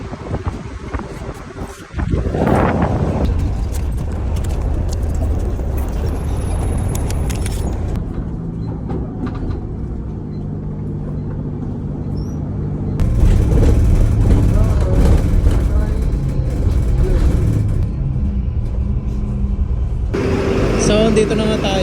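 City bus number 999 in Salmiya, Kuwait, rolls along with heavy engine rumble and road noise heard from inside, joined by wind buffeting and rattles, with someone talking over it.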